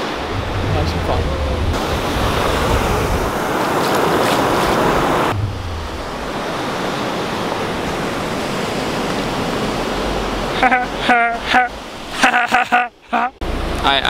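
Ocean surf washes steadily onto a beach in a loud, continuous roar, with voices talking over it toward the end.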